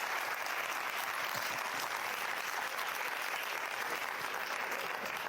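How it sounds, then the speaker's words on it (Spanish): An audience at an indoor talk event in Bogotá's Chapinero applauds, steady dense clapping heard from the room for several seconds without a break. "un aplauso para ustedes"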